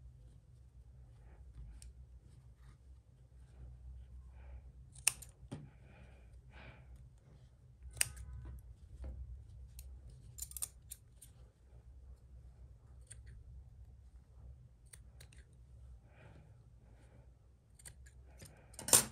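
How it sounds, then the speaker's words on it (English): Several sharp, quiet snips of scissors cutting yarn tails on crochet work, spaced apart against near silence, with soft breathing in between. "you're going to get your pair of scissors and you're going to cut all the tails"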